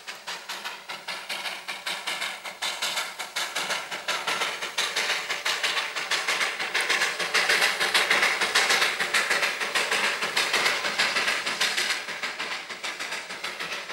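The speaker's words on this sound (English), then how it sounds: "the little train threads its way through mountain villages with inches to spare" A narrow-gauge toy train on a 2-foot-gauge mountain railway in India, climbing above 7,000 feet through hill villages, gives a continuous loud hissing rumble with a steady rhythmic clatter that stays close throughout.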